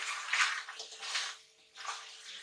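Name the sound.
water poured into a cooking pot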